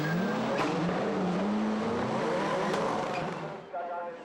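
A Skoda rallycross race car roars past loud and close during a championship heat in Germany, engine pitch sweeping as it goes by, then fading into distant engine noise, with a commentator talking over it.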